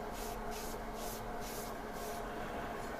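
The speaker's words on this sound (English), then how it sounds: "Spray the paper down a little with water, mist it a little bit, and just get it moist." Water misted from a spray bottle onto paper, a soft hissing spritz repeating in a steady rhythm of about six short bursts over low background noise.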